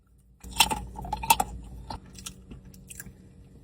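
Salted caramel dark chocolate being bitten, giving a few sharp, close crunches in the first second and a half, then softer chewing sounds that fade.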